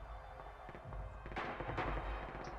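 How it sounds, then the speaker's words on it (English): Gunfire from a G41 rifle in the Red Orchestra 2 game on the snowy Winterwald territory map: a few sharp, loud cracks burst out over a steady rumbling battlefield background. "Oops, I shot my own teammate."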